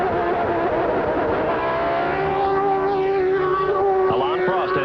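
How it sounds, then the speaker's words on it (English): A 1989 Formula 1 car screams through the Japanese Grand Prix at Suzuka, its engine loud and close, pitch sweeping down as it brakes into turn one, with a commentator speaking over it. "Listen to that engine as he whistles down into that turn 1."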